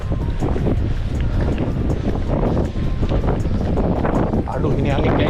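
Strong wind buffets the microphone on a fishing trip by the Sea of Okhotsk in Hokkaido, a loud, constant roar with gusts and possible water and boat noise underneath.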